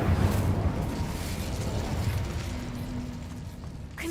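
Fiery burst of the Incendio spell in a wizarding video game, a low rumbling whoosh of flame that roars up at once and then slowly fades, with a brief tonal hum near the end.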